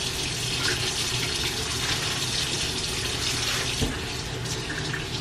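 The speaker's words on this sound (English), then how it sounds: "Rinsing off these steaks." Running tap water pours steadily into a kitchen sink while salmon steaks are rinsed, a continuous close splashing rush with no pauses.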